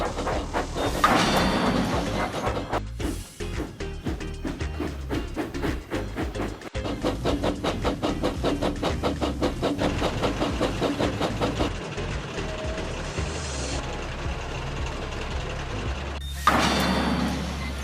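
A train engine chugs and rumbles in rapid rhythmic beats with clanking mechanical noise, sustained and close, fading briefly before a final loud burst.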